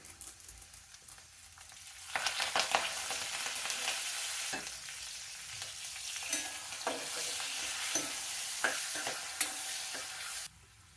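Turmeric and curry leaves crackling in hot oil as a tempering in a pan: a loud, continuous sizzle that jumps up after a quieter start, with scattered spatter pops and stirring clinks, then cuts off abruptly near the end.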